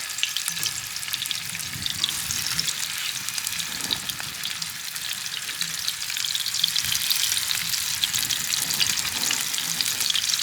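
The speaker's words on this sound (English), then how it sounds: "face down on the frying pan. Got a little bit of oil, olive oil inside." Food laid face down in olive oil in a frying pan gives off a loud, even hiss of sizzling oil with fine crackle throughout, steady and close, with no speech.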